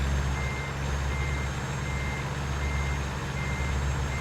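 A truck in the American Truck Simulator video game backs up, its reversing alarm beeping in a steady rapid rhythm over a low idling engine hum, with no voices.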